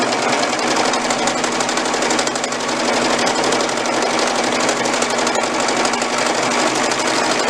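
A sewing machine runs steadily and loudly as it stitches trouser legs, working top to bottom along the fabric in one continuous unbroken drone with no pauses.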